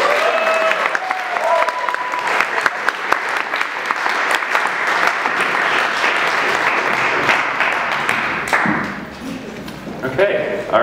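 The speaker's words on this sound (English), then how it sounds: "Now let's get another round of applause for that." Audience applause following a drum solo, a dense sustained round of clapping from a crowd that holds steady for about nine seconds before tapering off, with a few voices near the end.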